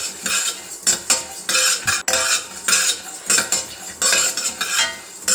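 Cumin seeds roasting in a pan, stirred with a metal spoon in quick bursts of scraping and clinking against the pan, with faint sizzling between strokes.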